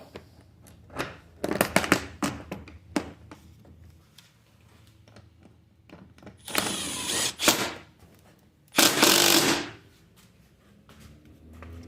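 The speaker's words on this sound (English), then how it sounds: "I'm going to run the bolt through all of that and pull it together" A bolt is run through a washer and tightened, with scattered metallic clicks and ticks followed by two longer, louder bursts of ratcheting or grinding, close up and without speech.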